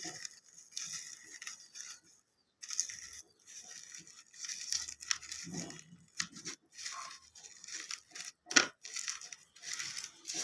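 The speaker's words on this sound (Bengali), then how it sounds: "কাঁচা মরিচগুলো এর সঙ্গে ডলে নিচ্ছি" Dried and green chillies are crushed and rubbed by hand, giving soft, irregular crunching and scratching sounds in quiet bursts close by.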